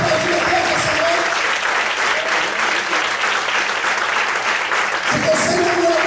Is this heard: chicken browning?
no